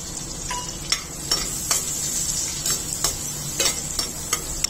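Green chilli, ginger and garlic fry with whole spices in a pan for paneer butter masala, giving a steady close sizzle broken by several sharp stirring scrapes and clinks.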